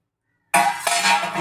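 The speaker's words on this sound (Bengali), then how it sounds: "এবারে নারকেলের দুধটাকে দিয়ে দেবো।" Coconut milk pours into a hot pan of cooking prawn curry, breaking a short silence with a sudden, bright sizzling hiss that carries on steadily, close by.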